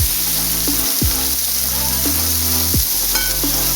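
Liver and onions fry steadily in a pan with a continuous close sizzle, broken by a few brief clinks and scrapes.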